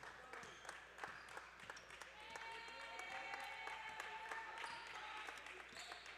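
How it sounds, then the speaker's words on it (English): Spectators in a college gym cheer and clap for the men's team from the side, a broad crowd wash with scattered claps and ball bounces, while an announcer talks over it. "the women's team of the Bengals to our right, cheering the men's effort here"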